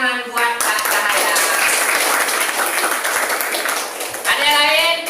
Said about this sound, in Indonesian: tepuk tangan buat Kak Cahaya